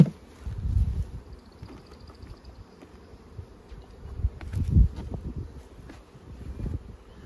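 Honey bees buzzing around a hive outdoors, a low droning hum swelling and fading in a few close passes, with wind buffeting the microphone and a faint high whine in the background.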